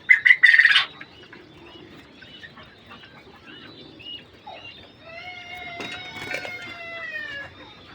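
Caged king quail behind mosquito netting call, with one loud, brief chirping burst at the start, then softer tonal calls rising and falling near the end over a quiet background.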